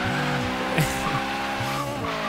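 Supercharged 2012 Cadillac Escalade ESV drifting in the Forza Horizon 3 video game, with a loud, continuous engine drone, repeated rising and falling revs, and tires squealing.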